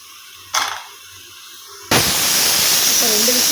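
A pressure cooker whistles while vegetable biryani cooks: a short sharp burst of steam, a lull, then a loud, sustained hissing jet of steam that carries on steadily, with a faint voice briefly underneath.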